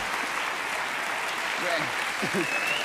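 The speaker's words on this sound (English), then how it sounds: "Round of applause for our volunteer." Studio audience applause on a 1988 Saturday night television variety show as a volunteer comes up on stage; steady, full clapping runs throughout while a voice speaks briefly over it.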